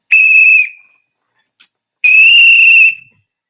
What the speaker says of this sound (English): I'm finna blow that whistle.